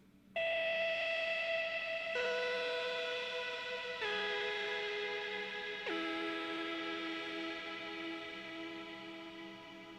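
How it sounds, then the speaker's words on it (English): A soft, sustained synthesizer pad from an Arturia MicroFreak plays slow held chords, changing every couple of seconds, with gentle echo and a long fading tail. "I turned to the Micro Freak to see if I could find a cool pad sound."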